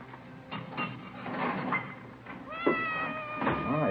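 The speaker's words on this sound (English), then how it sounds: "It's a nice cat you got there. Siamese?" A Siamese cat meows indoors, a few drawn-out, wavering cries rising out of a muffled background hum, moderately close and fairly loud.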